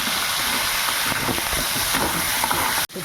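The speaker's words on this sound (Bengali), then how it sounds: "এবার আমি টমেটো আর কাঁচা লঙ্কাটা দিয়ে দেবো।" Tomatoes and green chillies sizzle and spatter in a pan of hot oil with tempered spices, a loud, dense frying hiss with faint stirring clatter, ending in a sudden brief drop.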